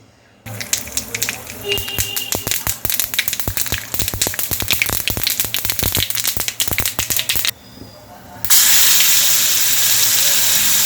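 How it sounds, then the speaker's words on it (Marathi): Coarsely ground masala paste hits hot oil in a kadhai, with crackling taps and spatter followed by a loud, steady hissing sizzle that fills the last seconds. "हे आता आपल्याला तेलावर परतून घ्यायचं आहे"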